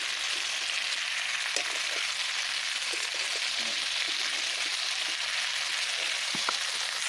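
Cauliflower and potato sauté in a pan with a paste of green chilli, ginger and garlic, giving a continuous, even sizzle with a few faint scrapes, and no talk.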